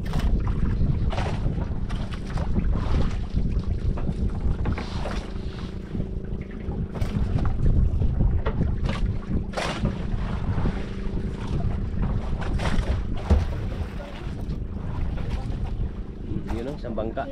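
A boat out on open water, with steady engine hum and wind buffeting the microphone throughout, while people talk over it.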